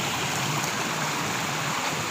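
A river current flows in a steady broadband rush of water, constant and fairly close, with no other sounds standing out.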